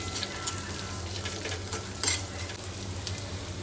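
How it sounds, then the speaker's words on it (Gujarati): Green chillies, ginger and cashews sizzle in a pan with cooked onion and garlic for Gujarati-style shahi paneer. A steady frying hiss runs throughout over a low hum, with occasional stirring scrapes and one sharper clink. "લીલા મરચાં, આદુ, 10 થી 12 કાજુ, બધી જ વસ્તુને થોડી વાર હલાવી લઈશું"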